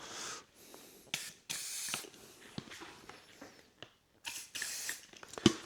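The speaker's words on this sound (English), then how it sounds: "I'm going to spray the side pods a little bit more." Several bursts of penetrating lubricant aerosol sprayed onto an Arai replica helmet's side pods, hissing in short blasts of varying length with brief pauses and small metallic clicks between them, close by.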